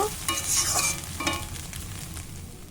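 Radish and egg sizzling in a pan while a spatula scrapes and stirs in bursts, the frying hiss fading slightly toward the end.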